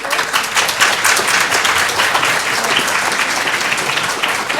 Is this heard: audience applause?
yes